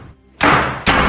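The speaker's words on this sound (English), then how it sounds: "All of a sudden, the door started to shut." A door bangs shut with a loud thud, and a second heavy slam follows half a second later, both close and sharp after a brief quiet moment.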